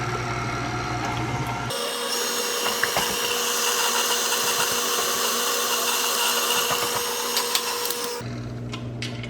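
An electric hand mixer beats eggs into banana bread batter: a steady, loud motor whir runs for about six seconds, starting and cutting off abruptly, with no talking.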